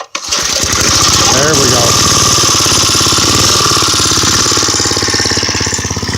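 Briggs & Stratton small engine on an old bike pull-started and running, a loud close rapid chugging that catches almost at once and holds steady, with someone speaking briefly over it.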